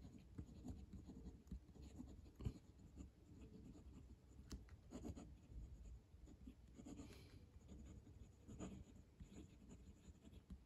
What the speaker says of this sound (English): I'll write with that here.